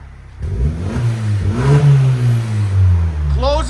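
A 2023 Hyundai Santa Cruz with its exhaust cutout open revs loudly nearby, the engine note climbing and falling through repeated throttle blips, with a voice briefly audible near the end.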